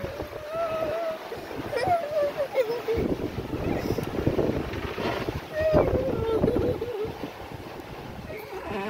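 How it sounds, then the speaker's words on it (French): A sailing boat under full sail, fore and aft, catches a sudden gust on the Caribbean Sea between Martinique and Bonaire. Steady wind roar buffets the microphone alongside water rush, with voices mixed in and a stronger surge midway. "On a pris une petite rafale là"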